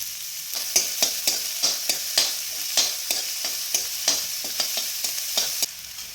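Chopped shallots fry in a pan for egg noodles while a spoon scrapes through them in quick, regular strokes, each stroke a crisp clack over a soft, steady sizzle.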